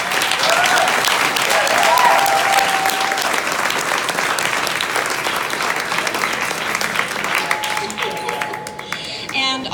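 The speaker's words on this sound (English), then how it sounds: "you need to give them some applause." Sustained applause from a large crowd, steady and loud throughout, with a tone sounding faintly underneath.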